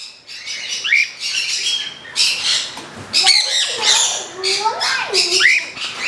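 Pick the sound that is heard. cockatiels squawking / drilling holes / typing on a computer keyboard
cockatiels squawking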